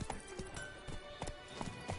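Hooves of the horse Roach clip-clop in The Witcher 3 in a quick, irregular series of hoofbeats over a soft background. Faint and without speech.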